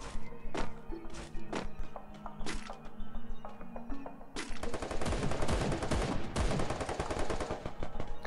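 Gunfire in the shooter game Free Fire: scattered single shots at first, then a dense burst of rapid automatic fire that continues loud and close to the end.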